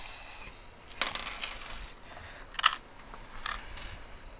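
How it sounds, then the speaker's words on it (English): A 13mm nut and lock washer shaken out of a Beretta Xplor shotgun stock: scattered light metallic clinks and rattles near at hand, one sharper tap standing out, over quiet background. "Now, you might have to shake them up a little bit to get them to fall out."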